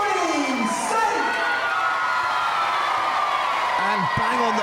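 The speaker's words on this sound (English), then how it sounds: "Ladies and gentlemen, the round of applause for Johnny Saint!" A wrestling crowd applauds and cheers loudly for wrestler Johnny Saint, a dense, continuous wash of clapping and shouts with an announcer's voice over it.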